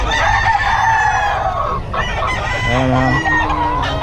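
Roosters crow and hens cluck loudly and continuously from a chicken coop out back, with several birds calling over one another. Someone speaks briefly over the noise.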